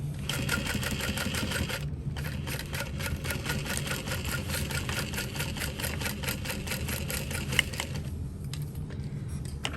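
A sewing machine stitches a parachute knapsack in a steady, rapid mechanical run, loud and continuous, with a brief pause near the start and another near the end.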